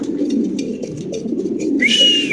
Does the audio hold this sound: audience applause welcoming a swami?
no